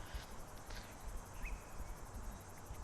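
Insects chirp in the video game Flower, a soft, steady, high-pitched trill over a low background hum.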